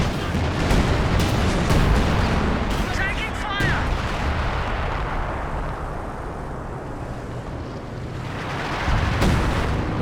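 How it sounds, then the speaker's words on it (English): Artillery barrage in the Company of Heroes 2 video game, a heavy rumble of booming impacts and explosions, dense at first and easing off before another burst near the end, with a commentator speaking over it. "Is that the Strat trying to put down a bunch of smoke and then drop a coordinated barrage behind it?"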